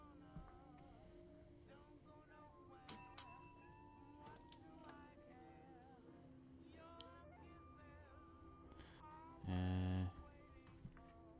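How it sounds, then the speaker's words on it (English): A bell rings in the PC video game The Shattering, a short tonal chime with a sustained ringing tail near the end, standing out loudly over a low ambient game background with scattered faint clicks. "Don't know if that bell did anything."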